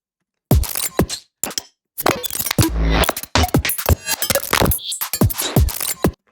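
A chopped, punchy breakbeat drum loop from a sample pack. It plays alone in choppy bursts of hard, cracking hits and short gaps, loud, crisp and slightly distorted.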